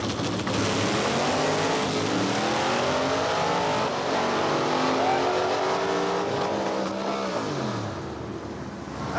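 A drag race car with a larger blower pulley and roughly 1050 horsepower tune launches hard, its supercharged engine roaring loud and close as it climbs through rising gear sweeps, then easing slightly at the end.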